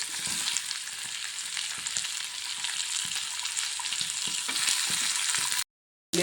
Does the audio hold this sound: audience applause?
no